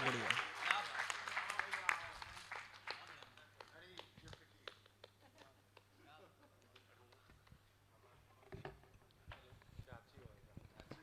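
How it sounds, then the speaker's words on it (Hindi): Applause from an audience at a poetry recital in a medical college, strongest at the start and fading, with voices and scattered claps continuing underneath. "एक बार जोरदार तालियां बुलाकर बुलाइए"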